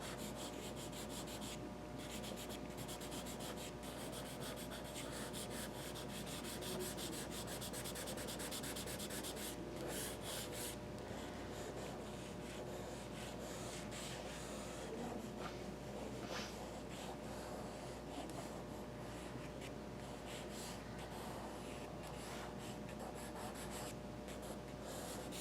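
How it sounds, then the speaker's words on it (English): A charcoal pencil scratches across paper in a close, continuous rasp of short strokes, quiet and dry, with no voices. "And go back with the charcoal pencil"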